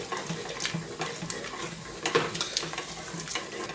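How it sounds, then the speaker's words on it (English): Thick beef pie filling stirred in a pan over gentle heat, a soft wet scraping and bubbling sizzle heard close and steady with no talking. "I'm going to give my pie filling a nice stir"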